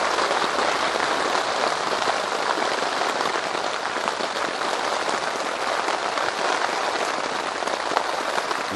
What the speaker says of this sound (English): this was one rainy night,